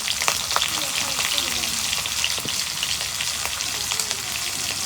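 Chopped onion and green chillies sizzle steadily in hot oil, a dense continuous crackle with scattered pops that holds its loudness from start to finish, nearby and alone.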